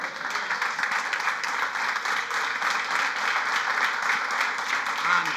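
A church congregation claps together at a revival service, a loud, dense, sustained wash of applause filling the room for several seconds with no break.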